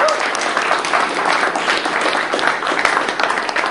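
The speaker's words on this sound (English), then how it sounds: "Everybody, let's please give Blake one final round of applause." A room full of attendees at a Los Angeles Drupal meetup gives a loud, sustained round of applause, the clapping close and even throughout.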